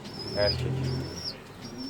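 A poultry bird in a backyard coop gives a short, close coo-like call, a brief low throaty note with a few faint higher chirps around it.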